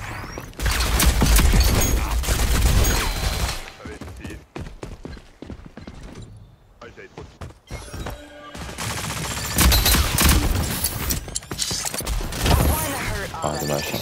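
Grenade blasts and rapid gunfire in the shooter Rogue Company, loud bursts of shots and booms, then a quieter stretch of scattered clicks and footsteps before the heavy fire resumes, with voices talking over it.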